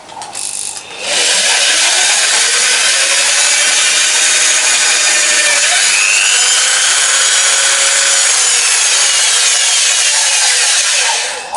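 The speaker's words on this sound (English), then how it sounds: "So let me quickly drill that hole." A loud power drill bores a hole into a block of wood for about ten seconds, a continuous whining, rasping noise close by.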